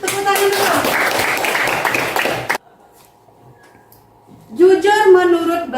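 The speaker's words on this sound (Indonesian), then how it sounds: "Kasih tepuk tangan dulu." Students in a classroom clap together during an Indonesian lesson on honesty, a dense burst of many hands lasting a couple of seconds, then a pause and a teacher's voice speaking.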